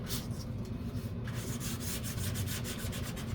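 Careful hand sanding along a rough edge of a P-51 scale model, a close, quiet, steady rubbing with rhythmic back-and-forth strokes toward the end.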